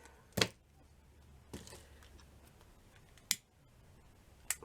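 Scissors snip through fabric for a handmade shabby chic cushion in four sharp, separate cuts spaced a second or two apart, close and crisp against a quiet room.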